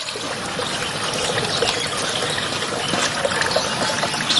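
Water pouring into a truck inner tube with one end tied shut around a stick, a steady gushing trickle filling the tube, continuous and close with no talk.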